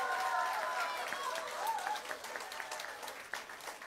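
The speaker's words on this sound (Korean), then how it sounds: "동의하시면 박수 한번 보내주시면 감사하겠습니다" Applause from an audience at a campaign office opening for a Gwangju mayoral preliminary candidate, a steady wash of clapping lasting a few seconds, moderately distant, with faint voices mixed in.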